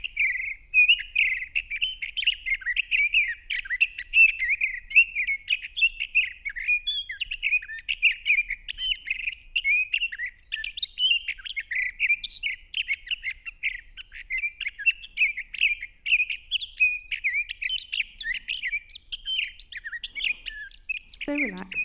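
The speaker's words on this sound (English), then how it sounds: "that's a sage thrasher out in eastern Washington" A sage thrasher in eastern Washington sagebrush sings a long, unbroken run of warbling, jumbled phrases, close and clear against a quiet background, continuing for about twenty seconds.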